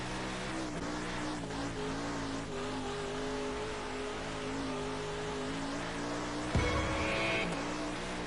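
A race car engine held at full throttle in a racing game, a steady high-revving whine that climbs and shifts pitch through the lap, with a brief scuffing burst near the end and no talk.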